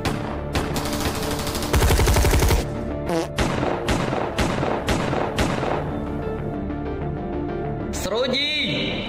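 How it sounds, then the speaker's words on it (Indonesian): Gunfire exchange with Dutch soldiers in a colonial-era Indonesian war drama: a rapid burst of shots followed by a string of separate loud reports, mixed with shouting voices and dramatic music throughout. "Akhirnya, baku tembak pun tak terhindarkan."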